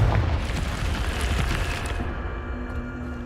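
A Confringo fire spell in Hogwarts Legacy bursts with a loud, deep boom that rumbles and fades over a few seconds, heard alone and close.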